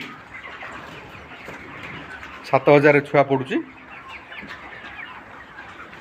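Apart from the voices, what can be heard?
chickens clucking inside a 2500-capacity poultry farm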